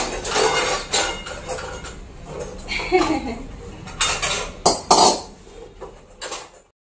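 A kadhai (wok) being handled and set down, heard as a series of close metallic clanks and knocks of cookware, several sharp hits spaced irregularly over a few seconds.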